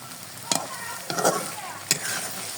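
Spice paste of ginger, garlic, cumin, ground dried chilli, cardamom and cinnamon frying with onion in a pan for magur fish curry, with steady close sizzling and a few sharp stirring scrapes, and no voices.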